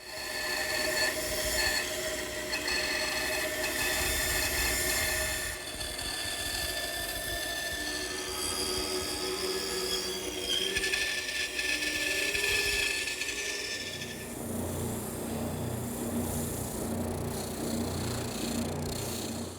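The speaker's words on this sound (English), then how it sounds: "then I head over to the bandsaw" Bandsaw cutting a traced wooden blank for a media press, a steady loud whine with shifting tonal squeal as the blade works through the wood, changing character near the end of the cut.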